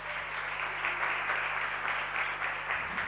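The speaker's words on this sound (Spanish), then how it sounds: "les damos una ovación" Faint, steady applause from an audience at an innovation event, a soft continuous patter of clapping heard at a distance over a low background hum.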